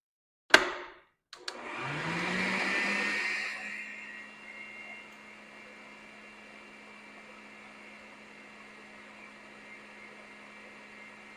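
An electric hand mixer beats an egg into gingerbread biscuit dough: a couple of sharp clicks, then a loud whirring burst that settles into a steady, quieter motor hum lasting several seconds, with no talking.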